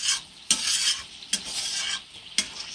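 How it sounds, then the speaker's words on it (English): Onions stir-fried with a splash of balsamic vinegar sizzle steadily in a pan, with three or four sharp scraping stirs of a utensil spaced through the close, continuous frying hiss. "And we're going to stir our onions around."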